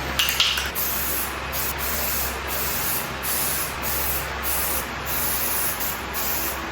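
Primer sprays steadily onto C6 Corvette headlights inside a paint booth, a loud continuous hiss of the spray gun with brief pauses in the airflow.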